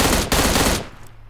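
A rapid, loud burst of automatic gunfire in PUBG Mobile, close and dense for under a second before cutting off into a fading tail.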